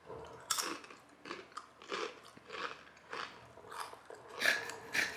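Close, crisp crunching bites and chewing of food in an uneven run of about ten bursts, with no talking over it.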